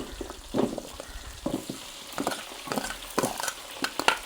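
Green chillies and dried red chillies sauté in a pan for pumpkin sambar, giving a soft crackling sizzle with irregular stirring scrapes, close and fairly quiet with no talking.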